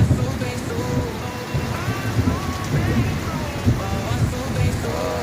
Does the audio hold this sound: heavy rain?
yes